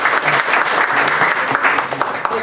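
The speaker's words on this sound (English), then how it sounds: "Another round of applause for Derek" At a stand-up comedy show, the audience applauds in a steady, dense burst of clapping that runs the whole time. A few cheers and voices mix into it, close and lively.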